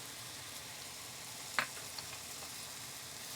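Dry spices being mixed into fish biryani in a pot, a soft, steady sizzle with a single sharp scrape of stirring partway through.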